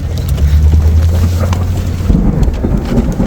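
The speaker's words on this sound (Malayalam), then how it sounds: "അയ്യോ നല്ല മഴ" Heavy rain falling outdoors near a park, a loud steady wash with low rumbling underneath, continuous and close throughout.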